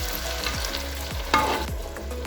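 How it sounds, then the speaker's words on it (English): Amaranth greens stir-fried in a pan, Cameroonian style, sizzling steadily up close while a utensil scrapes and turns them in repeated strokes, with one sharper clack. "watch out that you don't fry it for too long, because it will start burning"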